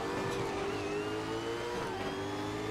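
Steady, loud engine drone of a V8 Supercar, a ZB Commodore mod racing at the Adelaide street circuit in Assetto Corsa. Sustained revving holds through the clip, with no talk over it.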